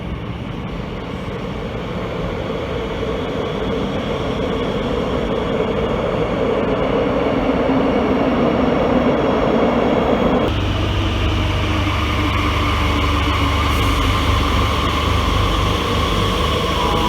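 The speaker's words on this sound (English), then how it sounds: "It's a wide-body CAF 8400 series train." A Madrid Metro wide-body CAF 8400 series train rumbles steadily at a station platform, a loud continuous broadband roar with a deep low hum that shifts and settles partway through, no voices present.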